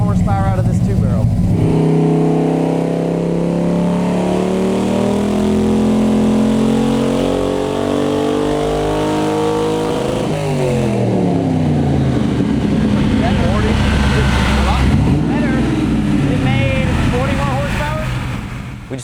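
A V8 LS engine runs on a dyno fed by two-barrel lawn mower carburetors with bigger jets, its loud, steady drone climbing in pitch, then dropping and rising again in a second rev that fills the whole stretch.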